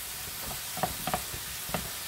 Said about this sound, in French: On remélange un petit coup.